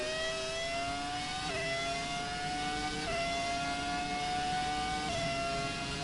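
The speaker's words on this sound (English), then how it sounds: "As you can hear, listen to that engine just roar." A modern Formula 1 car engine in F1 2017 on the Canada circuit screams at high revs, its pitch climbing through each gear and dropping sharply at three quick upshifts, loud and continuous with no talk.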